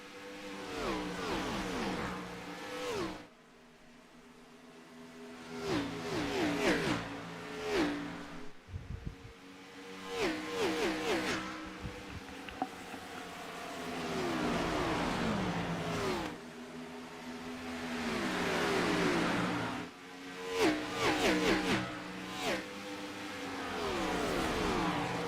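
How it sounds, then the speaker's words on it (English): Race cars in a round of the ANZCAR Abruzzi Cup series roar past in waves, engines revving and whining as they approach and fade, with brief lulls between the loud passes. "We'll turn it up and listen to the sound of these engines."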